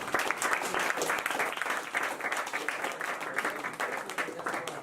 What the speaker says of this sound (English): So let's clap it up for Avery for coming.